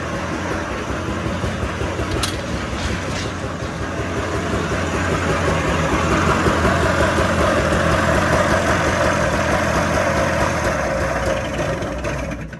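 A 1997 Arctic Cat 440 snowmobile engine running steadily nearby, a continuous loud mechanical drone that swells slightly midway, with a couple of brief metallic ticks near the start.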